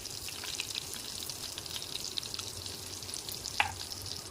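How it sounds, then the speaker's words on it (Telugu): Garlic, curry leaves and turmeric fry in oil in a pan for a moong dal and tomato dish, producing a soft, even sizzle with a few faint ticks and one brief clink, and no talking. "ఎల్లిపాయలు వేగాక కరివేపాకు, వేగాక పసుపు వేసుకుందాం."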